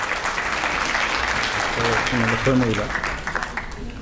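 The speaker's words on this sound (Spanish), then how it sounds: "Lo recibimos con un fuerte aplauso, por favor." A conference audience gives an incoming speaker strong applause, a full, sustained clapping that swells midway as voices call out over it, then begins to thin toward the end.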